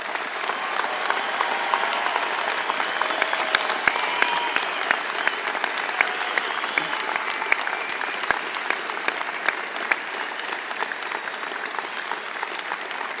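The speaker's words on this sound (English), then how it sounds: "please join me in one more round of applause for our graduates." A large audience applauds graduates at a college convocation ceremony, a sustained wash of clapping heard from a distance across a big hall, with a few sharper individual claps standing out.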